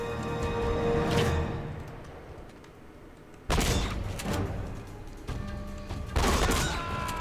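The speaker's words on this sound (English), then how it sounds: "he just threw a grenade right in his face" A grenade blast in the video game Uncharted, a dense crashing burst with rattling gunfire, then a second loud impact and more clattering shots, close and loud with no talk.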